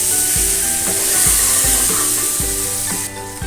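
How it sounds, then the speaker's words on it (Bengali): Fried potatoes and slit green chilies being stirred in a hot pan for a Bengali jackfruit curry, with a steady loud sizzle and regular scraping strokes of the spoon roughly every half second, close by and without talk. "ভালো করে নাড়াচাড়া করে নেব।"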